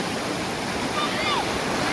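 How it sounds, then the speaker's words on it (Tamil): Water gushes through the opened shutters of the Kallanai dam in Trichy, a continuous close roar of churning flow with steady intensity and a little wind buffeting. "டேம் ஷட்டர் ஓபன் பண்ணிருக்காங்க பாருங்க, எவ்வளவு தண்ணி வருது பாருங்க"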